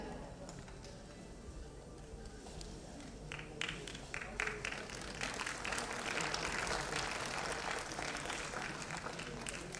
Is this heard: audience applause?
yes